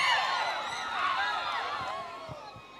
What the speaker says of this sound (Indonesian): Mohon tepuk tangannya untuk Nusa Tenggara Timur